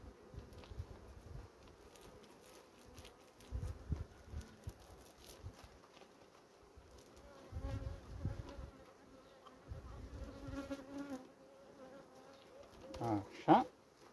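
Honeybees buzzing around an open hive frame, a soft, continuous hum with individual bees droning closer and louder at moments, along with faint handling noises.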